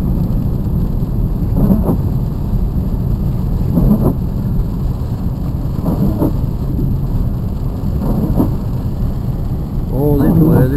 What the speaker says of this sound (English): Lightning.